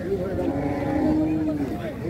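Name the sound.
heifer cattle mooing at a market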